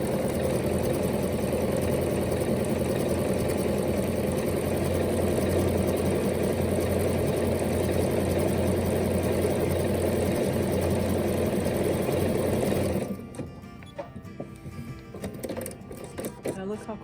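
A Bernina sewing machine stitches cotton thread steadily for about thirteen seconds with a continuous mid-level whir, then stops, leaving quieter room sound.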